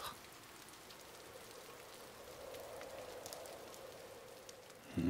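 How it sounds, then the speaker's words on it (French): Steady rain pattering against a window during a windy night storm, a soft continuous hiss of drops with no voices, holding even throughout. "la pluie tambourinait contre la fenêtre"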